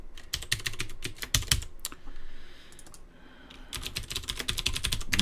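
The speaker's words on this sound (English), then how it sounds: "what the hell is going on with my keyboard?" Rapid clacking on a computer keyboard close by, dense runs of keystrokes with a brief lull in the middle before typing picks up again, with no talking.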